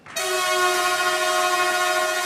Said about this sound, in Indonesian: diiringi suara peluit, dilakukan inspeksi menyeluruh untuk kereta yang dibuat di Tiongkok yang secara perlahan meninggalkan stasiun Tegaluar di Bandung